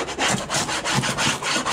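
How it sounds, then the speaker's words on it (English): Someone hand-sands a camper, rubbing abrasive against its surface in quick, even back-and-forth strokes. The rasping repeats about every fifth of a second, close and fairly loud, with nothing else heard. "Alright, we're sanding!"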